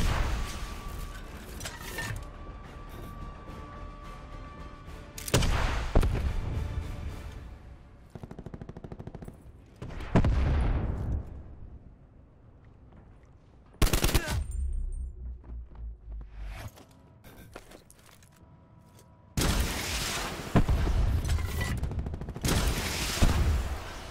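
Bursts of automatic gunfire and blasts in the shooter game Call of Duty: Black Ops 4 come in separate loud volleys with quieter gaps between them.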